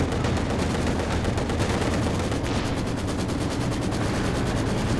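Machine guns in the World War II strategy game Company of Heroes 2 fire in rapid, continuous bursts, a loud, dense rattle that lasts the whole stretch without any talking.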